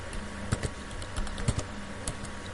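Close computer keyboard typing, a steady run of light key clicks with a few sharper strikes, entering Python code with no voice over it.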